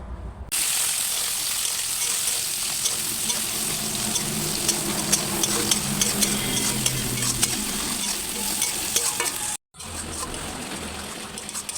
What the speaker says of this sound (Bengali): তো এখন ঝটপট মাংসটা রান্না করে নিই